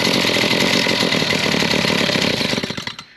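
A small shop engine runs steadily at a loud, close idle and refuses to shut off, its rapid firing pulses continuing until the sound drops away abruptly at the very end.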